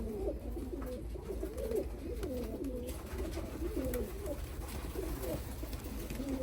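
Pigeons in a loft make soft, continuous overlapping cooing, faint and steady under a low background hum, with no voices.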